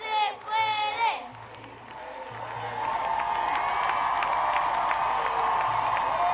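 Protest crowd at a Women's March cheering and applauding, a sustained roar of many voices with clapping that swells and holds steady, shouts rising out of the mass, with a voice briefly audible at the start.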